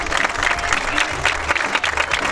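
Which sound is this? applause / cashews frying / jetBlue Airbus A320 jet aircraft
applause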